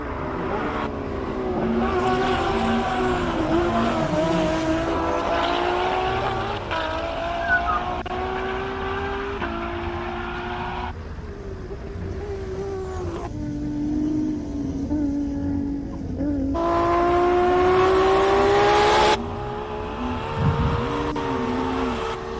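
Race car on a hill climb run at Simola in Knysna, South Africa, engine screaming loud and close through repeated gear changes, rising and falling revs, with tire squeal as it powers up the course.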